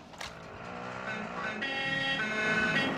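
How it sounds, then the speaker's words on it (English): An ATV driven in the Warzone video game, its engine revving steadily louder over three seconds with a rising whine and a brief scrape near the start. "Grant going for an ATV ride or what?"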